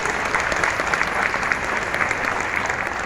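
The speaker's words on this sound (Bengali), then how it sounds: "তো আজ টিম আমরা করবো জয়ের জন্য একটা জোরদার হাততালি দিন" Steady, dense clapping from a large audience at a team gathering, sustained and even throughout with no pauses.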